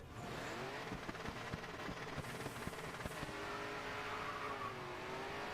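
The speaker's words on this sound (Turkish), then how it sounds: "şimdi burada efsane bir Mustang ile yarışıyoruz" Mustang racing car engine in the Grid driving game, a steady rising drone close up with rhythmic knocking and a brief tire squeal.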